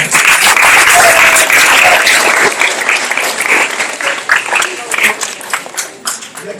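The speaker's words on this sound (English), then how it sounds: "Give Lisa a round of applause again." An audience at an Estuary Day welcoming ceremony applauds Lisa with dense, loud clapping that gradually thins and grows more scattered toward the end.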